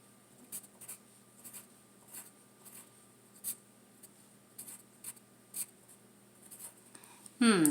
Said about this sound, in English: on the Blow Pop side, I'm going to write not chocolate.